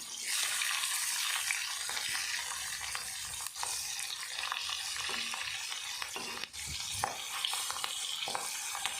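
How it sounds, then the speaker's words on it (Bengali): Green chillies fry in hot oil left over from frying hilsa fish, giving a steady, close, dense sizzle with scattered clicks and scrapes from stirring throughout, and no talking. "এবার আমি মাছ ভাজার সাথে কিছু কাঁচা লঙ্কা ভেজে নেব"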